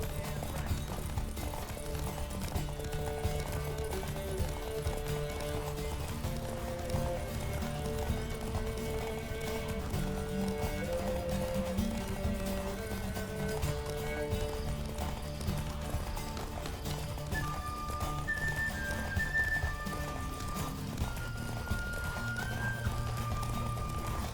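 Rhythmic hoofbeats of a galloping horse in The Witcher 3 run continuously under music and game sound effects, fairly faint and steady.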